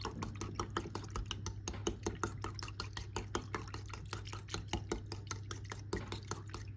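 Eggs beaten with water in a bowl, one bowl of egg to six and a half of water, for steamed egg with tofu: rapid, even clicking strokes of a whisk against the bowl, close and steady throughout with no talk.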